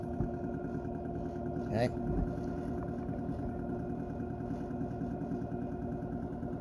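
An Egenerator engine runs steadily at a little under 600 RPM, a continuous low mechanical hum with a layered harmonic drone that holds constant throughout, while a person briefly speaks over it.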